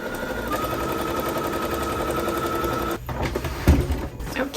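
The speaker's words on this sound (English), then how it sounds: "I'll take it to my sewing machine and sew these down" A sewing machine stitches down dress pocket pieces, running in a steady continuous whir for about three seconds before stopping, followed by a few handling knocks and fabric sounds.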